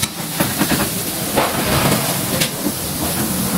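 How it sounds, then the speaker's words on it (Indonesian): Sausages frying in a pan with oil, a steady broadband sizzle and hiss running throughout, with faint crackles and pops, near and continuous with no talking. "kita goreng dulu sosisnya"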